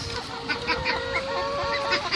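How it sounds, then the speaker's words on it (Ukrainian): Chickens cluck inside their coop in a close, busy flurry of short calls that overlap and pulse irregularly, with no speech. "а ось і мої кури."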